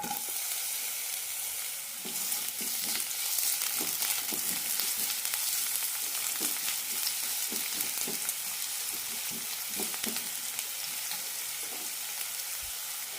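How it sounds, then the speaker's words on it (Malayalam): Chopped onion frying in a tablespoon of oil for an okra tamarind curry, producing a constant close sizzle broken by repeated scraping and stirring strokes of a spoon against the pan. "ഒരു ടേബിൾ സ്പൂൺ എണ്ണ ഒഴിച്ചിട്ടുണ്ട് അതിലേക്ക് ഒരു ചെറിയ സവാള മുറിച്ചതിടാം"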